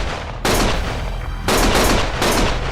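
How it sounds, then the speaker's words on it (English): Heavy bursts of gunfire in the video game Lost Judgment, loud and close, coming in three sustained volleys with brief dips between them. "Stop shooting!"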